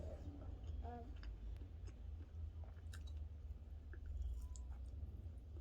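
Soft, close chewing of a bite of Chammie pansit adobo, a noodle dish, with faint wet crunches and clicks over a low steady room hum.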